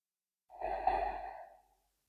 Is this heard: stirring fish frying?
no